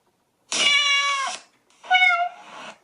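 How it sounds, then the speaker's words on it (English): Two recorded cat meows in a row from an iPhone app, clear and tonal with a slightly tinny quality, separated by a short pause. "Yeah, that's cat sounds."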